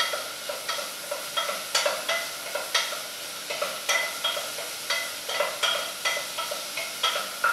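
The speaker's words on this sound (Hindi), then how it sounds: "अभी हम डालेंगे गार्लिक, गार्लिक थोड़ा सा सौते हो जाए।" Garlic sautéing in a pan while being stirred, with a steady sizzle broken by regular clinks and scrapes of the utensil, close and alone, no talking.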